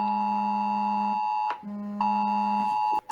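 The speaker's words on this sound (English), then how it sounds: "Oh, that's an Amber Alert." Phone emergency Amber Alert tone: loud two-pitch electronic blaring in repeated long bursts with short gaps, sounding alone with no talk.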